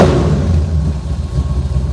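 The 502 cubic inch engine of a custom 1936 Ford Phaeton fires up, with a loud, deep rumble from the first instant that settles into a throbbing, uneven idle.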